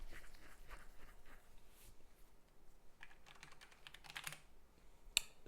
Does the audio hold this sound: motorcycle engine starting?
no